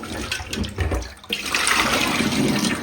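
Water splashes and then rushes steadily over raw pieces of a freshly cut 4 kg katla fish being washed, close and fairly loud, with no voices.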